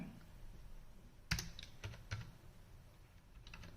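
Someone types a date into an Excel attendance sheet on a computer keyboard. A handful of quiet key clicks come in a short irregular cluster, followed by a few more faint taps over low room noise, with no one speaking.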